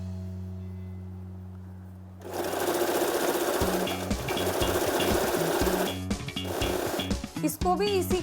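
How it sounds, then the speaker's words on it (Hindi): An electric sewing machine stitches salwar fabric, a near, rapid mechanical chatter that starts after a low hum and runs in bursts with brief stops, while someone speaks over it. "ऐसे ही हमें दूसरी तरफ से भी सिलाई करनी है।"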